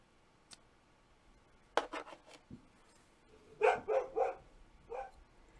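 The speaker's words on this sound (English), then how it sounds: "the barking you can hear in the background" A dog barks in short bursts of several quick barks, with a pause between groups, at a moderate distance.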